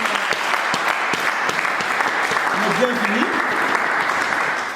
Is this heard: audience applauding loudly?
yes